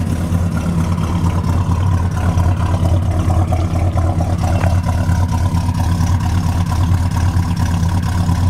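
A Chevrolet Monte Carlo with a single Flowmaster exhaust idles in a deep, steady, loud rumble that holds even and unbroken throughout, with no voices over it.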